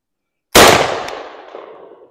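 A single sharp, loud 20 gauge shotgun blast fired through a chamber adapter with big buckshot, outdoors, followed by a long fading echo.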